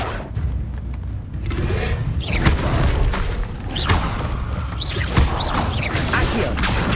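Spell effects in the video game Hogwarts Legacy, including a Levioso cast, come as a dense, loud wash of booms, whooshes and crashing impacts. The layered action noise runs continuously, with sharp hits scattered throughout.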